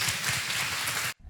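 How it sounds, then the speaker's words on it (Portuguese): An audience applauds during a televised faith gathering. The clapping is a dense, steady wash with no voices over it, and it stops abruptly near the end. "Vamos aplaudir mais uma vez."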